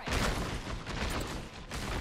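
Scout rifle firing in Apex Legends, dense crackling gunfire filling the short stretch at steady loudness with no clear gaps between single shots.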